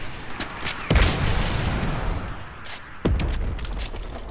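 Rockets explode in a Fortnite match, two heavy booms about two seconds apart, each a sharp crack followed by a rumbling decay, with scattered gunfire crackling in between.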